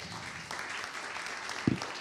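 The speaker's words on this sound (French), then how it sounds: "on peut les applaudir" An audience at a talk among architects applauds briefly, a soft, steady wash of clapping with one louder thump near the end.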